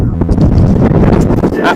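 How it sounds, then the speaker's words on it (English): Strong wind buffets the microphone in a steady, rumbling roar at a carp fishing lake in Beaurepaire, France, with faint voices mixed in underneath. "It's windy as hell."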